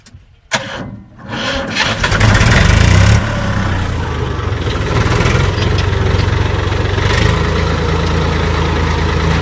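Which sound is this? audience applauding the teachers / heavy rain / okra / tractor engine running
tractor engine running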